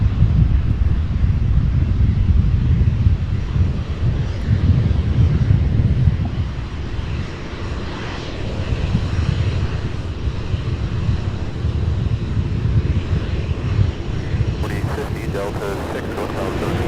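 Airplane taking off at SDF airport: a steady, loud broadband roar of jet engine noise mixed with wind rumble holds throughout, easing slightly partway.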